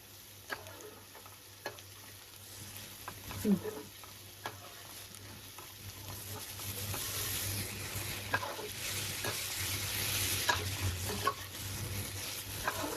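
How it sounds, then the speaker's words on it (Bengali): Onion and green chilli fry in a pan while being stirred, giving a close, steady sizzle broken by sharp scraping and tapping strokes that grow busier and louder over time. "এই তো ভাজা ভাজা হয়ে গেছে, এবার মিশিয়ে দিই"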